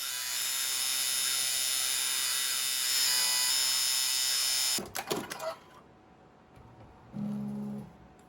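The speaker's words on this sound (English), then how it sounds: "Now it's gonna do a double stitch." A home embroidery machine sewing a double stitch line on a plushie in the hoop, with a steady, close, buzzing motor hum for several seconds before it stops, followed by a few clicks and a brief short whir.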